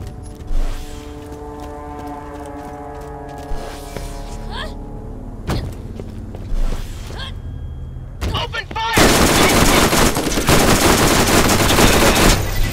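Machine gun fire in Borderlands, scattered sharp shots early, then a dense continuous burst of automatic fire over the final few seconds, loud and close, with a voice calling out in between.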